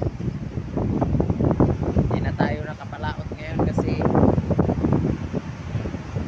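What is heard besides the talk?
wind at the seashore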